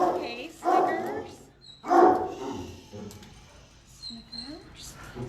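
A young Staffordshire mix dog at an animal shelter gives a couple of loud, close barks and yips amid kennel noise, with people talking nearby.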